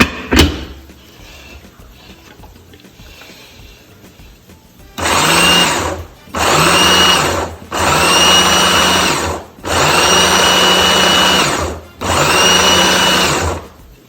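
Egg mixture for French toast being whizzed in a kitchen blender: five loud, close motor bursts of a few seconds each with brief pauses between them, after a quiet start.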